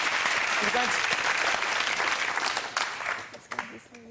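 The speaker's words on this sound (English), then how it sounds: "Give yourself a round of applause." Audience applause at a mental arithmetic demonstration, a dense crowd clapping steadily and fairly loud before thinning into scattered claps with a voice near the end.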